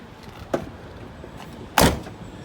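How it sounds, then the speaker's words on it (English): A pickup truck door thuds shut with one solid, heavy slam after a lighter click, heard close in a shop against a steady low background hum. "Doors closed nice and solid."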